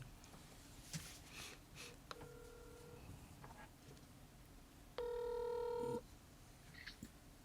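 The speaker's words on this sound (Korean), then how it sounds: "이름을 오픈하고 전화 통화를 하도록 하겠습니다." Faint phone-call tones in a quiet studio: a short ringback tone, then a louder steady ring tone lasting about a second, with light room noise and small clicks around them.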